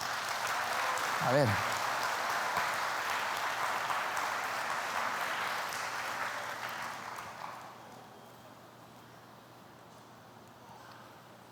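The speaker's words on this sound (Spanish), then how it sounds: "Dale un aplauso a Jesús entonces." Church congregation clapping during a Spanish-language sermon, a fairly quiet wash of applause lasting several seconds before fading out, with a brief spoken word early on.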